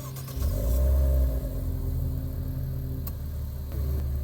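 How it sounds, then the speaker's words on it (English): A 2016 Maserati Ghibli S Q4 fires up by remote start, a brief crank and loud engine flare settling into a steady deep idle rumble close by. "you'll hear a beep and then it'll start up."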